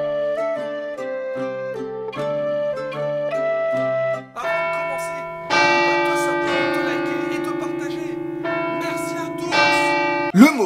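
Church bells ring out in a clear, resonant sequence in France, single tolls stepping through pitches before a fuller, overlapping peal swells and lingers.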